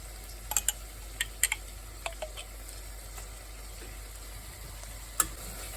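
Garlic sizzling gently in a pan on low heat, a faint soft hiss broken by scattered sharp pops and ticks, with no talking.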